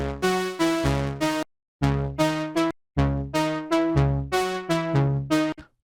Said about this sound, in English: select the noise oscillator as your source, and link it to the filter cutoff